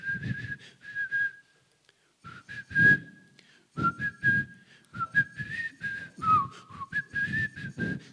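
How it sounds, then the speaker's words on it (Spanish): A person whistles a tune in short, clear melodic phrases with brief pauses between them, close and fairly loud for about eight seconds, with no talking, during a Spanish-language Bible study course session. "Y eso que se la chiflé en inglés."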